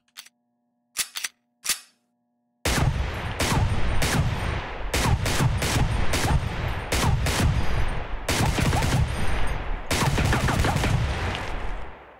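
Rapid gunfire at a shooting range in the video game Receiver 2, after a few isolated mechanical clicks and a short silence; sharp shots fire in quick bursts and volleys, loud and close, with no talk.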